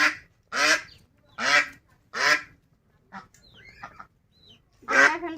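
A duck being caught gives five loud, harsh quacks close up in an irregular rhythm, with faint scuffling and softer sounds between them.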